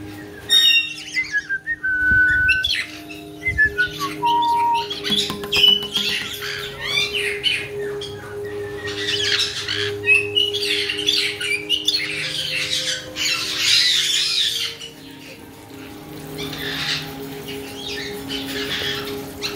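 Several pet parrots out of their cage squawk and whistle, with sharp loud calls, descending whistled notes and chattering that come in irregular bursts throughout, close by.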